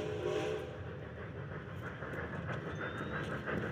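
A train rumbles steadily in the video game Red Dead Redemption 2, a low continuous rolling roar with hiss and a faint rising whistle tone, fairly quiet throughout.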